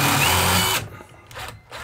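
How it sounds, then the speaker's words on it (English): A power drill whirs loudly up close as it drives a screw into a wooden stud while building a shed, then stops, followed by a couple of short bursts. "now we can pull it forward and drill one in"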